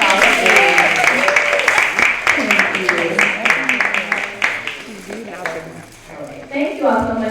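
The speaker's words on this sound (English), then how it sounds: "please join me in giving them a round of applause" An audience applauds speakers at a college mental health speaker series event, fairly loud clapping with talk over it, fading near the end as a voice continues.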